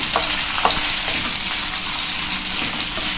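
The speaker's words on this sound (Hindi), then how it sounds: "जीरा और ये देखिए प्याज। हम इसको भूनेंगे, गुलाबी होने तक इसको भूनना है।" Onions sizzle and crackle steadily in a hot pan, a dense, continuous frying hiss with a few brief stirring clicks near the start.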